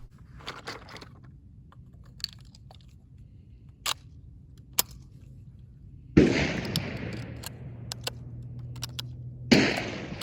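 A High Standard Supermatic Trap shotgun fires two loud, sharp blasts several seconds apart, each with a ringing outdoor decay, after a stretch of faint clicks and quiet background.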